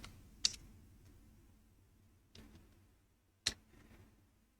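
A few sharp, separate clicks from a computer keyboard while a command is typed into a terminal, with quiet gaps between the keystrokes.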